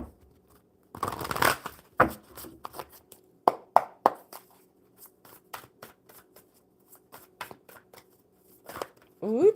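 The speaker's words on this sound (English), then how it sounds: "One more good shuffle for Gina." Someone shuffles a deck of oracle cards with irregular riffles, slaps and taps that stand out against near silence, beginning with a long dense burst and ending in scattered shorter handling sounds.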